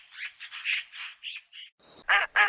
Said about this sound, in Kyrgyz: Утка кряква, өрдөктөр.